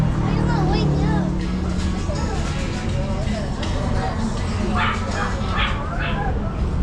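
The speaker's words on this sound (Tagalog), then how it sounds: "Napakaliit na aso." A very small dog barks and yips in short bursts amid a busy street setting in Osaka, Japan, with people talking throughout and traffic noise in the background.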